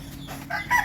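A chicken gives a brief, close cluck that rises into a short squawk at the end, less than a second long and heard alone.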